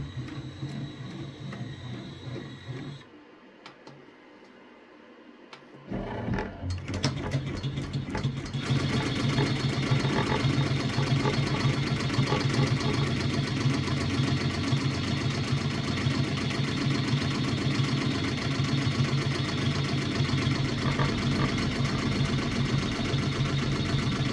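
A Redline 1501 embroidery machine stitches a flag patch frame, starting up after a short lull and then humming and rattling steadily, loud and close, with no voices.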